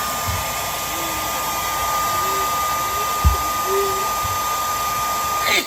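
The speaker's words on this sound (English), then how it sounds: "we need to blow dry this to get it to kind of warm up and melt a little bit" A hair dryer blows continuously at close range, warming a plastic fitting on an RV water heater, a steady whirring roar with a high whine and a few soft bumps and a faint voice.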